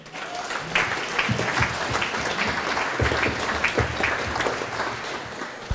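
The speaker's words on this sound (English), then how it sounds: "May I have a big applause for them?" An audience at a 2008 Eurocities event in Eindhoven gives a big round of applause, with many hands clapping steadily and loudly for several seconds before it begins to taper off.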